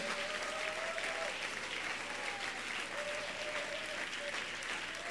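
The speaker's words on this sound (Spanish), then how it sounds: "Dele ese aplauso al Señor." Church congregation applauding during a sermon, a steady wash of many hands clapping at moderate distance, continuous throughout with faint tonal sounds mixed in and no talking.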